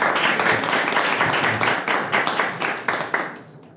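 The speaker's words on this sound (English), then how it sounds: "Round of applause for David and Braden." Audience applause at a live comedy and magic show, a dense, steady wash of many hands clapping that fades gradually toward the end.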